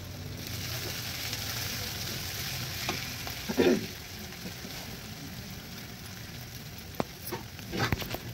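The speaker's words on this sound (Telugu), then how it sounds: "మంచి కలర్ వచ్చేదాకా వేపాలి." Sliced bitter gourd and onions fry in oil with a continuous soft sizzle, broken by occasional spatula scrapes and stirs in the pan.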